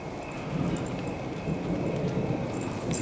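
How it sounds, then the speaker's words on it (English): Rain begins falling outdoors at night, a soft, dense patter with low rumbling undertones, steady and fairly faint throughout. "It's starting to rain."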